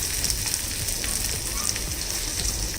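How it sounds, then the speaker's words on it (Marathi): Green chili sizzling in a little ghee over very low heat for tempering, a steady, fairly soft crackling fry heard close up with no talk. "इथे आपण फोडणी करून घेऊया"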